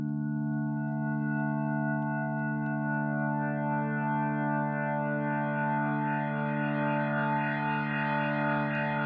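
A sustained FM-synthesis organ tone from a Yamaha YC-series stage keyboard, rich in harmonics, with a shimmering, distorted effect that grows brighter and busier as it holds.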